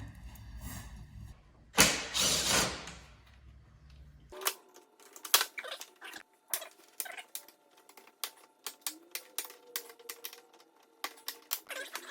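Phillips head screws come out of a 2020 Hyundai Elantra bumper cover: a loud rustling burst at first, then a quiet run of close, crisp, irregular clicks and ticks.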